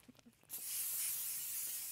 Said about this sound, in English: Do you want to spray the parchment paper for me?